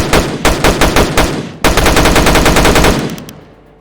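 Automatic gunfire from a weapon in the indie video game Fittest: several loud spaced bursts, then a longer continuous rapid stream of shots that trails off into fading echo.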